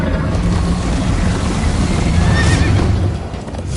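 Horse in Minecraft: Story Mode whinnies over a dense, steady rush of galloping hoofbeats, loud and close throughout with no talk.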